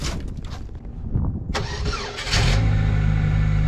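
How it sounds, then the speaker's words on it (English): A 21-year-old car's engine cranking and catching after a remote command start, a few uneven sputters and a sharp turnover before it settles into a steady, close, loud idle. "Command start fucking works on the damn thing."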